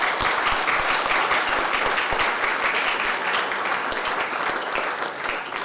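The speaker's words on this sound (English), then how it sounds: "Would you all join me in a round of applause for our color guard?" An audience at a United States citizenship ceremony applauds the color guard from the Northwest Pennsylvania Collegiate Academy and Erie High School, a sustained even round of clapping from many hands that fills the room.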